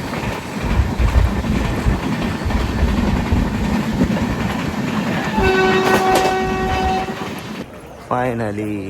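A train pulls into Sindhudurg railway station with a loud, continuous rolling rumble of wagons, then a long steady horn blast near the end; a voice talks at the close.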